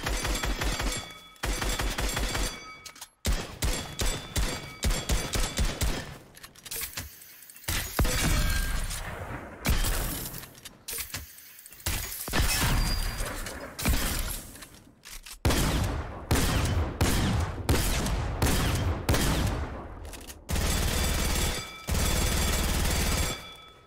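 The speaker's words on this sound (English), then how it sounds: "here's what she looks like firing guns" Gunfire from guns in the video game Fortnite: loud, close bursts of rapid shots in repeated volleys separated by short pauses, with sharp cracking reports and no talk.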